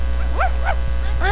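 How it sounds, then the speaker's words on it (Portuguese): A dog in Tenchu 2 lets out a few sharp, close barks and yips in quick succession over a constant low background hum. "Fica latindo mesmo, cachorro."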